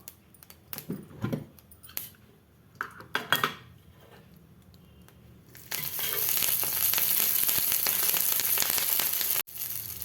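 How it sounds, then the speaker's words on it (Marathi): Green chillies fry in a pan for chutney: a few seconds of clinking utensils and scraping come first, then a loud, steady sizzle that keeps going to the end with one short break. "मिरची घातली मी, मिरची थोडं फ्राय होऊ देऊ"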